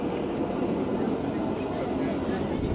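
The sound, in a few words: Budapest tram riding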